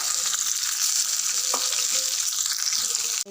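Sliced onions and green chillies frying in a hot pan, a loud, continuous, crackling sizzle up close, broken by one brief utensil tap, no talk.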